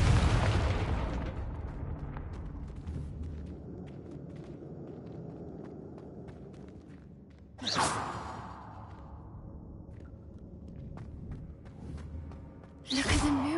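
Confringo fire spell explosions from Hogwarts Legacy burst out as loud whooshing blasts, one at the start, another midway and a third at the end, each fading into a quiet, faintly crackling game ambience.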